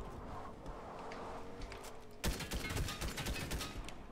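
Sniper and rapid gunfire in the Fortnite battle royale game, a dense fusillade of sharp cracks that bursts in loudly partway through over steady game noise.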